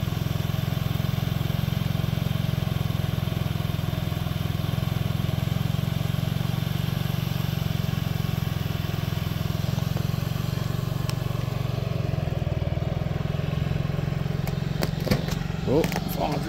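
An old Honda Ruckus scooter idles steadily after its first cold start of the year, a constant low engine drone with a few clicks and clatters near the end, while a voice talks.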